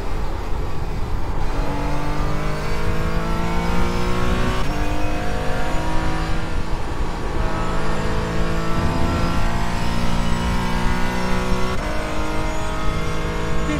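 A race car engine, a Mazda or Porsche GT4 racing at Spa-Francorchamps in iRacing, holds a loud, steady drone with pitch that rises and falls as it revs and shifts. A faint tyre squeal from the car sliding may sit under it.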